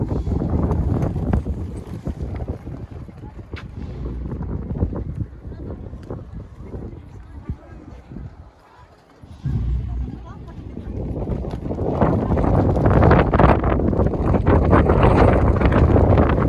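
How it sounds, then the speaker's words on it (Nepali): Strong cold Himalayan wind near Marpha and Muktinath in Nepal buffeting the microphone in loud rushing gusts that briefly drop away, then build again, with voices mixed in. "एकदमै ठुलो हावा,"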